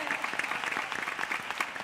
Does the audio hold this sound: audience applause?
yes